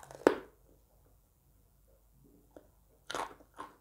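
A single loud, close crunch as someone bites into crispy sun-dried fried pork, followed by quiet and then a few softer crunchy chewing bursts near the end.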